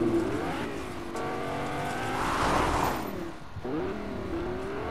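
Stock car engine in the Fortnite video game, revving and droning with shifting pitch, moderately loud and continuous with no speech, swelling as it accelerates and dipping briefly before rising again.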